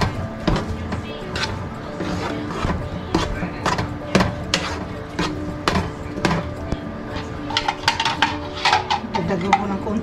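A spoon stirs and mixes instant food in a bowl at home before dinner, making repeated quick scraping clinks and knocks in an uneven rhythm, with faint background noise and no clear talk.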